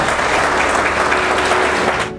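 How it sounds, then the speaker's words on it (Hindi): A training-program audience breaks into loud, dense clapping that holds steady for about two seconds and then cuts off. "सभी के लिए एक बार जोरदार तालियां"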